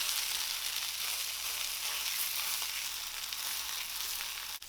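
Pork chorizo and potatoes frying together in a pan, a steady soft hiss of sizzling fat with no voices and a faint clink near the end.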